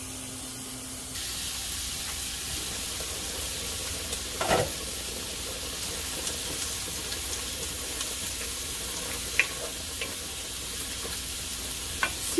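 Pork belly pieces fry in a very hot pan, giving a steady sizzle with stirring and a few sharp scrapes and clinks of utensils against the pan.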